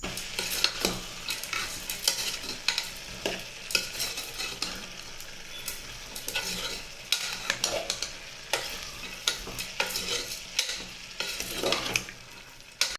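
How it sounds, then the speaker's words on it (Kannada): Cowpea mixture seasoned with salt and turmeric fries in a pan, a steady close sizzle broken by repeated scraping strokes of a spoon stirring through it, with no voices. "ಮತ್ತು ಫ್ರೈ ಮಾಡ್ಕೊಳ್ತಾ ಇದ್ದೀನಿ"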